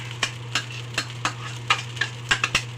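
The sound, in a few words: stirring carrots and egg into fried rice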